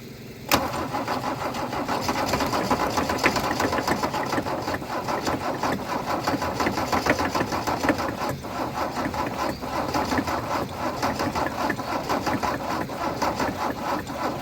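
Mercedes W123 300D diesel, parked for 20 years, cranking over continuously without catching, a steady churning starter rhythm heard close and fairly loud for the whole stretch.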